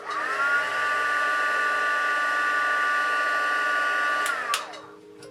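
A handheld heat tool runs as a steady, loud whooshing blow for about four seconds while creased layers are heat-set, then cuts off and winds down, leaving brief clicks and a quiet tail.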